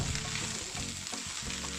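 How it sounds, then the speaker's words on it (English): Spaghetti stir-frying in a pan gives a steady, close sizzle with faint stirring scrapes, heard alone. "You can keep frying for as long as you want."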